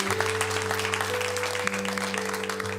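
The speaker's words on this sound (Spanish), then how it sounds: "Denle un fuerte aplauso al Señor." A church congregation applauds the Lord in a steady wash of clapping over a sustained low organ-like drone, fairly even in loudness across the whole stretch.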